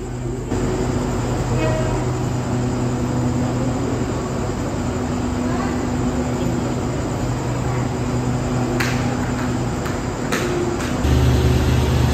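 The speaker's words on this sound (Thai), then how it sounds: "ถึงสุราษฎร์ธานีนะครับขบวน32จอดรอเวลาออก" Passenger train 32 of the State Railway of Thailand, with a dining car attached, stands at Surat Thani station waiting to depart, giving off a steady, loud, low idling drone with faint clanks near the end.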